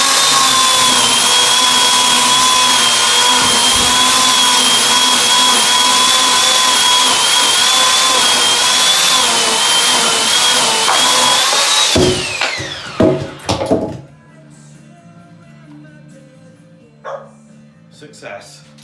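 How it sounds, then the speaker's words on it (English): A chainsaw cutting through a wooden beam in a wood and cement wall indoors gives a loud, steady high-pitched engine whine for about twelve seconds, then cuts out, leaving scattered knocks and clatter in a quieter room. "Okay, so I brought the chainsaw in for this job"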